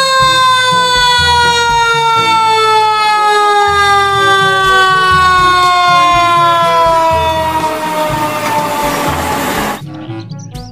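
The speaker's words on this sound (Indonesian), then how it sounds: "Di sini ada mobil pemadam kebakaran." A toy fire truck's loud electronic siren wails steadily with a falling pitch over a repetitive beeping tune, then cuts off abruptly near the end.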